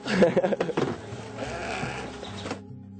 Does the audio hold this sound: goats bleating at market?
yes